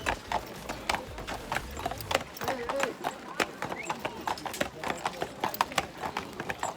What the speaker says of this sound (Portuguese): Subindo a gente e os cavalos.